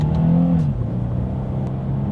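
A 2021 Lexus IS 300 pulls hard in first gear on paddle shifters, its engine note rising loud and close, then dipping briefly as a gear change lands and steadying again.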